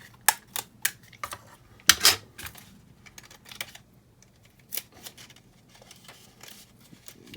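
Paper being folded and creased by hand for a paper sculpture: scattered sharp crinkles and taps, with a louder rustle burst near the start, close and fairly quiet with no talking.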